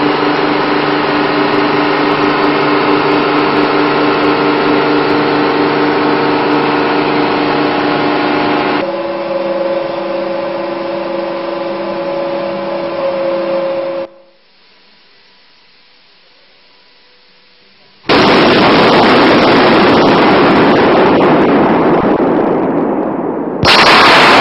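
A GE F404 jet engine running on a ground test bed roars steadily and loudly, its tone shifting partway through, then drops away briefly before a louder broadband blast returns near the end.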